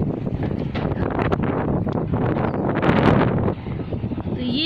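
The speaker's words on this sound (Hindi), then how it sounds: "कितनी ठंडी हवा चल रही है" Strong cold wind gusts across a rooftop, buffeting the microphone in a loud continuous roar that swells and dips throughout.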